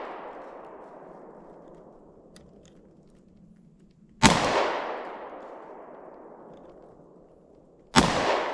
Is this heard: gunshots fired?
yes